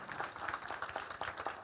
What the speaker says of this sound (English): Let's give an applause to our great panel.